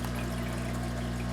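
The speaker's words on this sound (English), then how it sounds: "I'm getting a lot of bubbles from the water trickling down from this little" Water trickles down a small drip wall in a frog terrarium as a continuous, close burbling flow over a steady low pump-like hum. There is no talking.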